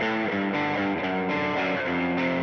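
Electric guitar driven through a green JRC overdrive pedal with a delay on, a dense distorted chordal passage sustained loud and steady with no talk.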